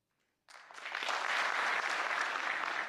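Applause breaks out suddenly from an audience at a talk at IIT Delhi, rising quickly into a sustained, even wash of clapping with no talk over it.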